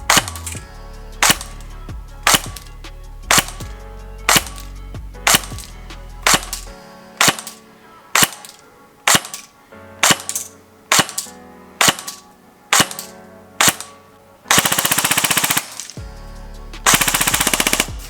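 Tokyo Marui SG553+ airsoft AEG with FET and MCU firing test shots: about a dozen sharp single shots in a steady rhythm, followed by two short full-auto bursts, close and loud with no talking.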